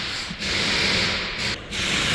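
A cabin air filter in a Chevy Sonic slides out of its plastic housing with a steady scraping rub, close and fairly loud, briefly interrupted twice.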